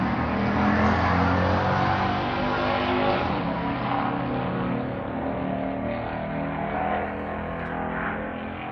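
A loud car engine drones continuously, a thick, rumbling roar with steady harmonic tone that eases only slightly in level over several seconds, with no voices over it.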